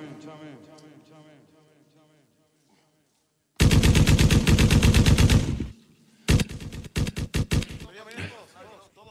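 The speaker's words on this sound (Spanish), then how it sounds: "meto un par de disparos ahí" Gunshots added as a sound effect in a Spanish rap music video: two loud bursts of rapid, machine-gun-style fire with a short gap between them, following a stretch of quieter talk.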